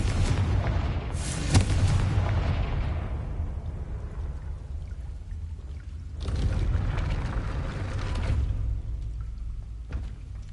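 A Confringo blasting spell goes off in Hogwarts Legacy, giving a loud booming burst at about one and a half seconds that rumbles and fades. A second heavy blast follows near six seconds over a steady low background.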